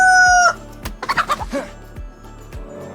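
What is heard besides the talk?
chicken clucking in the video game DayZ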